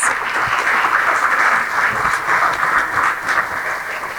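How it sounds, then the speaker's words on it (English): A tenant-landlord meetup crowd gives sustained applause for event volunteers, a steady, fairly loud patter of many hands continuing evenly throughout without speech. "let's give our volunteers a round of applause for tonight"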